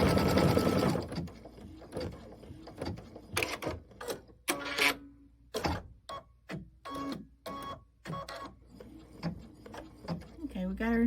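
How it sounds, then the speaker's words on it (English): An embroidery sewing machine stitches small dots for a Kimberbell Cup of Cheer design, its needle running in close mechanical bursts separated by short pauses as it jumps between dots. The steady whirring and clacking is loud and near. "going to stitch all the little dots. So I'm going to start it"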